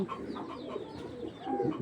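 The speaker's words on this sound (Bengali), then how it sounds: "এটা রাব্বানির লাইনে একটা কবুতর" A Rabbani-line pigeon coos in a short, soft, repeated burble close by, with rough background noise underneath and no voices.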